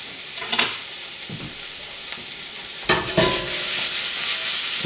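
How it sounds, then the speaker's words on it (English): Garlic sizzles and fries in a pan through a steady crackling hiss, broken by brief scraping stirs and louder bursts toward the end, with no talking. "Now we got garlic up in this goodness."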